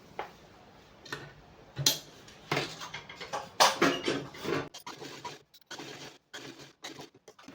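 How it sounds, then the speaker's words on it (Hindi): A sewing machine stitches the crotch seam of a salwar in short, ticking bursts that speed up and slow down, with brief pauses between them. The machine is close and clear, and no one speaks. "एक साइड से हमने अपने क्रोच एरिया की सिलाई कर ली है।"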